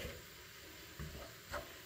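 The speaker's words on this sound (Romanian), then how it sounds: "se aude că sfârâie acolo" Cabbage braising in a pan for a Transylvanian-style home-cooked dish gives off a faint, steady sizzle and hiss that runs continuously, with a few slightly louder bursts, and no talking.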